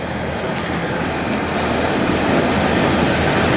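Railway wagons on sidings near Gascoigne Wood in Yorkshire give a continuous, loud, broadband rail rumble with a low roar and no clear breaks, heard close by.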